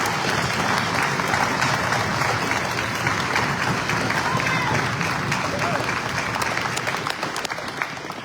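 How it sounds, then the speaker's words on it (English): Audience applause following a band performance at a patriotic day event, a sustained, dense roar of clapping that holds steady and begins to thin slightly near the end. "Let's give it a round of applause."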